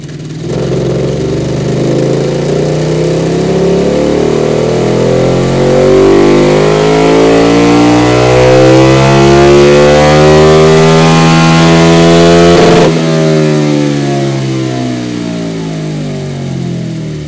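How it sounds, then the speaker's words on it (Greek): A KTM 1290 motorcycle engine run up on a dynamometer, revving loudly and steadily rising in pitch for about twelve seconds before cutting back and winding down, close and alone. "Κάναμε την πρώτη δύναμο μέτρηση της μηχανής."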